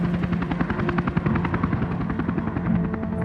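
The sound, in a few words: rescue helicopter taking off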